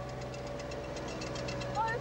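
A Centurion tank's engine runs at a steady idle, a deep continuous rumble with a low droning hum that stays even and close throughout.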